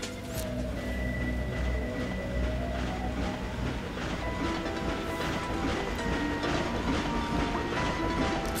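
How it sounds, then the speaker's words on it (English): Moving train in the video game Ratchet & Clank, a steady rumbling roll with rhythmic clickety-clack and tonal hums running continuously throughout, no talking. "the train's moving"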